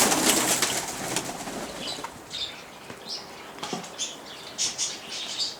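Pigeons coo and flutter softly as they are fed in a coop. Several soft coos and short wing flaps come from close by in a quiet setting, with no talk.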